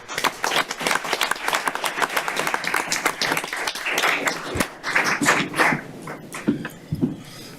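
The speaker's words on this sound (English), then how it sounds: "let's give Brandy a round of applause for her" A room of attendees at a county council meeting gives a sustained round of applause, dense overlapping claps filling the space, thinning out toward the end.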